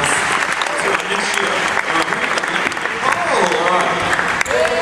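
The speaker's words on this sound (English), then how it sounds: "Let's give it a good clap," Crowd applause at a dunk contest final, dense continuous clapping from many people filling the space, with voices calling out briefly over it near the end.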